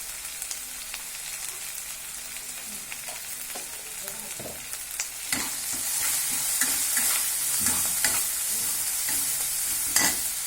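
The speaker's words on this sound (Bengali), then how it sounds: "সব মশলাগুলো ভালো করে কষে নিচ্ছি" Turmeric and chili powder sautéing in a hot pan, a steady sizzle with stirring scrapes that grows louder and busier partway through, close up with no talking.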